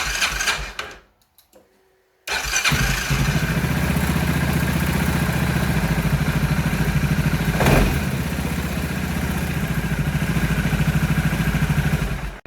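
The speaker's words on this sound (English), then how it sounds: "you need to start your engine for some seconds" A KYMCO MXU550i ATV engine is started after a few faint clicks and settles into a loud, steady idle with a rapid, even mechanical chatter and a brief rise in revs partway through.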